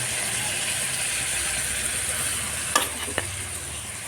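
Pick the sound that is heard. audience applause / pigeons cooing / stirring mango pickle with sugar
stirring mango pickle with sugar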